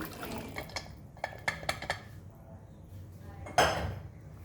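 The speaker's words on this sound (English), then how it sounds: "And now we will add our cooked chanas in this." Cooked chickpeas tipped into a pan for chana masala, giving a few close metallic clinks and scrapes against the pan, then a louder wet clatter near the end.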